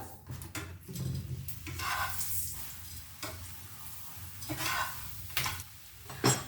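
Methi paratha, a fenugreek flatbread, frying on a pan with fresh oil just added, giving a steady low sizzle with occasional scraping and light clinks, close by and with no talking.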